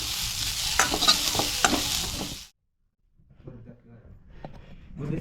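Mutton masala is stirred and roasted in a pan, giving a loud, busy sizzle with scraping for about two seconds, then a sudden silence before quieter stirring and frying return.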